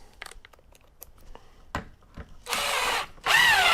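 A power drill drives a 3-inch black drywall screw into a wooden door-frame stud, in two loud, close whirring bursts of about half a second each, with a short pause between them.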